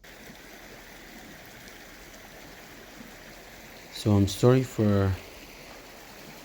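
Steady flowing river water, a continuous soft rush of stream noise running the whole time, with a person briefly speaking over it near the end.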